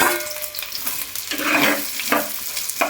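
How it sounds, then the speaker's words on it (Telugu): Onions frying in a pan for a village-style egg curry without tomato: a close, steady sizzle with scraping stirring strokes running through it. "ఉల్లిగడ్డలు మంచిగా మగ్గాలి పచ్చివాసన పోయేటట్టు మంచిగా వేయించుకోవాలి"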